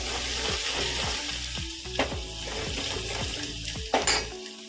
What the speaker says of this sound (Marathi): या तेलातच टाकायचं हा मसाला वाटण आहे कांद्या खोबऱ्याचा.